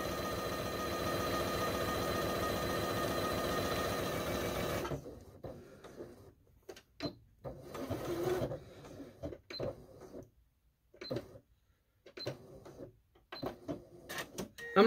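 A sewing machine stitches steadily and loudly through a fabric Christmas pillow for about five seconds, then stops; afterward come faint clicks and handling noises with brief pauses.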